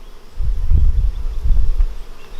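A honey bee swarm buzzes around garage hives in a low, steady drone that swells and fades in two loud pulses, close to the listener with no talk.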